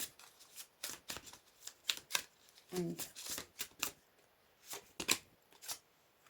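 Playing cards shuffled for a fortune-telling card draw, a run of quick riffling bursts that sound close and fairly soft, with a faint voice briefly underneath.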